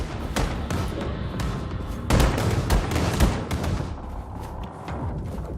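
Diesel guns firing in Wolfenstein II: The New Colossus, with a dense run of loud gunshots and heavy thuds, a harder burst midway, then easing toward the end.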